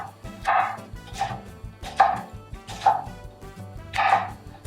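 A knife slices the edges off long pieces of pineapple on a cutting board, about five distinct, rhythmic chops close by, each a crisp knock with short pauses between and no talking.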